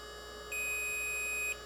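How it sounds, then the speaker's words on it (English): A steady, faint electronic tone about one second long sounds from a Kobra3 unit with a drive inserted, then cuts off cleanly over low room hum. "There's the beep, two beeps, exactly as the instructions say."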